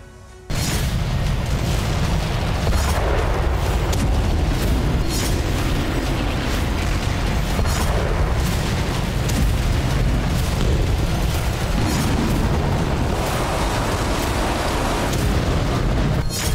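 Sustained heavy explosions from Russian weapons, a loud rumbling barrage of booms and blasts that starts abruptly and continues without pause, dense and roaring with no talk over it.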